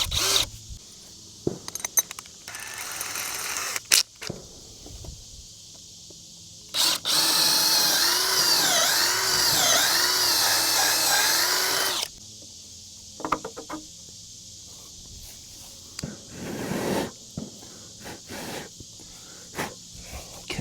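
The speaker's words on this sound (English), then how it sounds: "I'm gonna go ahead and drill from the back side." A power drill with a fastener bit bores through the back side of a portable goat shelter, one sustained whirring run of several seconds between short bursts, handling clatter and quiet pauses.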